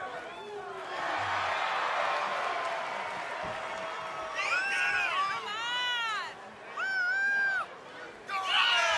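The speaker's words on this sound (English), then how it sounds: "Listen to this crowd, guys. They're fired up for this one." A fired-up crowd at an independent wrestling show cheers and chants, a busy hum of voices with rising whoops and shouts that come in bursts, while a commentator talks over it at first.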